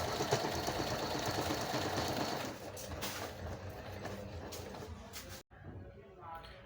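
A Singer Computer 9800DX sewing machine embroiders a name, its steady rapid needle hum running continuously and close up, with a brief break near the end.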